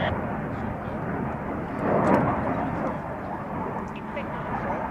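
Aircraft landing at the Royal International Air Tattoo: a broad, steady jet roar that swells briefly in the middle, with faint radio talk in the background.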